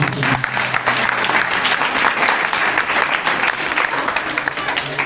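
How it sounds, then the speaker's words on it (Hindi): A village crowd claps in a dense, steady burst of applause, welcoming a BJP leader's wife at a rural gathering in Bharan; a low hum runs beneath the continuous clapping. "राधा जी के लिए एक जोरदार स्वागत में तालियां बजा दी।"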